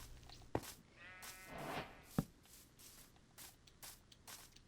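Sheep bleating in Minecraft, a single wavering bleat in the middle framed by two sharp clicks and soft shuffling footsteps, faint and close with no voices.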